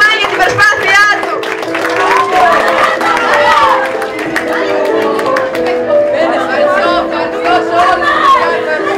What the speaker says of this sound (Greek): Ένα χειροκρότημα για την προσπάθειά του.